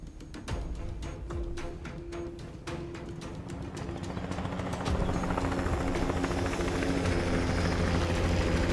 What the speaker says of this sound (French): L'hélico est déjà prêt.